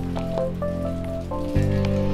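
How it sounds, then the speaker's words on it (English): Heavy rain falls on a camping shelter at Lake Whitney. A steady, dense patter of fat drops runs for a couple of seconds under a persistent tonal hum. "the rain's coming down a little heavier now. The drops are getting bigger."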